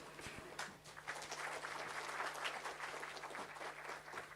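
Audience clapping at the opening of a G20 Employment Working Group technical meeting in a conference hall, a steady, fairly faint patter of many hands sustained throughout with no speech over it.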